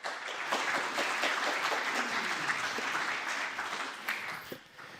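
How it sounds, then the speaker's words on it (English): An audience at a blockchain conference applauds steadily for several seconds, a dense wash of clapping that fades slightly at the end. "Big applause."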